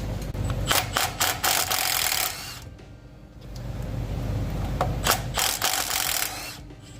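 Transmission bolts are loosened on a 2010 Ford F250 with a 6-speed TorqueShift, heard as close, loud bursts of a power tool with ratcheting mechanical clatter and a short pause in the middle.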